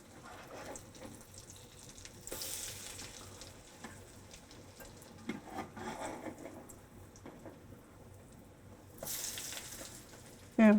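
A hoe cake fries in a pan after being flipped, an Early American cornmeal recipe, giving a soft steady sizzle with a few louder hissing bursts and a clunk at the end.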